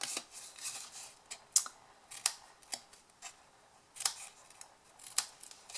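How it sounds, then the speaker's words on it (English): Snips cutting material for a tiny handmade chocolate box, a series of crisp, sharp snips in an irregular rhythm, close and clear in a quiet room. "Watch the snips, they are dangerous."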